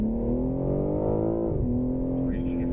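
A BMW M3 on a race track accelerates with a steady, droning engine note that rises and then settles, heard from inside the car under the ongoing sound of the run.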